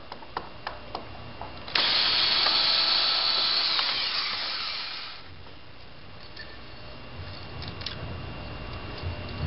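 A power drill backs screws out of wooden cleats on a beam mold, short ticking bursts and then a steady high whirring run of several seconds that winds down, followed by lower rumbling handling noise.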